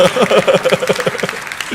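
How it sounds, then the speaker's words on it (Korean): A youth retreat crowd gives a short burst of rhythmic clapping after a rap attempt by the speaker, quick and steady, with a voice sounding over the hands. "박수 한번 주세요"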